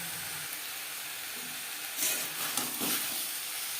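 Cauliflower pieces and boiled, cut potatoes frying in oil in a pan, giving a steady soft sizzle throughout with a few louder crackling bursts near the end.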